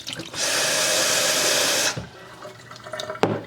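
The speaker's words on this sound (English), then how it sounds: "Let me get some fresh water in this first." Tap water runs into a container used for rooting plant cuttings: a steady, close rushing pour for about a second and a half that stops abruptly, followed by faint handling noises.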